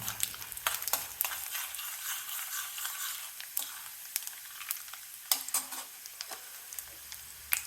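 Mustard seeds and chana dal sizzle in hot oil in a pan, a steady crackling fry with sharp pops and spatters scattered throughout, close and alone with no talk.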